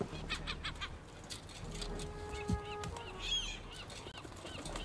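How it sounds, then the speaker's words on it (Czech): Geese in Concrete Genie, heard in a fishing harbour level, give a few short nasal honks. They sit in a busy ambient game mix, with one sharper call near the middle. "To jsou ale hloupí ptáci."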